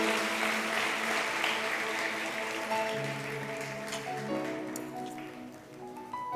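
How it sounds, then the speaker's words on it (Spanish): A church congregation claps during a Spanish-language service, a sustained patter of applause under sustained musical tones that fades slightly toward the end. "Aplauda al Señor que está aquí."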